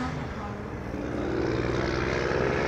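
Continuous low roar of trucks moving along a road near a major intersection by a wooded area, a steady mid-distance drone swelling a little toward the end.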